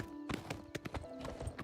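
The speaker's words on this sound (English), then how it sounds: "Grab our horse. Ride all the way back up to town." A horse's hooves clip-clop in a quick, uneven series of sharp beats in Oblivion Remastered, close and fairly clear over a low steady background hum.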